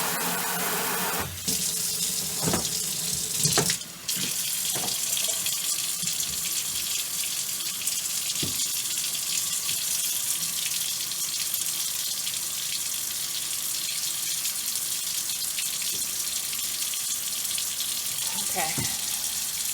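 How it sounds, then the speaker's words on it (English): Running water from a handheld sprayer rinses dirt from the bottom of a tub on a sheep farm, a steady close hiss of spray lasting throughout, with a few brief knocks and clunks along the way. "Use my handy sprayer to get that out of there."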